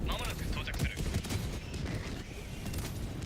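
Dense, continuous rapid turret gunfire in a Helldivers 2 video game, with loud overlapping bursts of shots and muffled booms filling the whole stretch.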